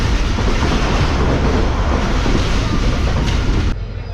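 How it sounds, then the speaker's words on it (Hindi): The Karachi Express rushes along at speed after leaving Jhimpir, a loud, dense roar of wheels and carriages with faint rhythmic clatter, continuous until it abruptly drops quieter near the end. "झंपीर से निकलने के बाद ट्रेन की स्पीड कुछ इस तरह की है"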